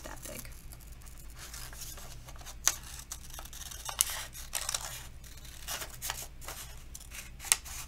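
Scissors cutting through paper or card while making a crown, a series of small, close snips and crisp clicks spread irregularly over several seconds against quiet room noise.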